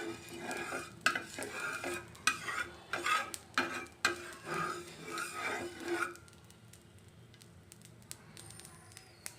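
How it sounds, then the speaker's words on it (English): Oil sizzles on a hot dosa tawa over the flame, with busy crackling and spatter bursts for the first six seconds. After that it settles into a quieter, thinner hiss with occasional pops. "Take a dosa tawa, switch on the flame, add some oil into this."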